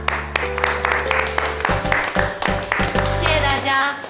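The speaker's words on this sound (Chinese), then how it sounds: "大家热烈鼓掌欢迎！" Office colleagues clap to welcome a new employee, a moderate burst of scattered hand claps over a steady low hum, fading out toward the end.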